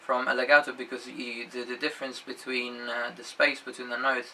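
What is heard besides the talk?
None of the usual background noises is heard.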